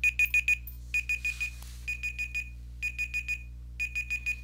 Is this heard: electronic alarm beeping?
yes